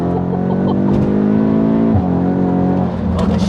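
A tuned 475 bhp Audi S3 8Y running with a loud, steady engine drone that briefly dips and rises as revs change, heard close from inside or beside the car.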